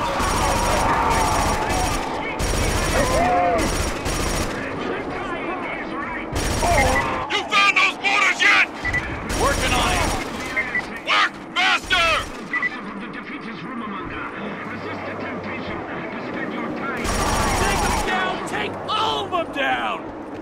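Automatic gunfire from a mounted machine gun in the Killzone 2 shooter, heard as repeated loud bursts of rapid fire broken by short pauses, with game voices and battle noise mixed in.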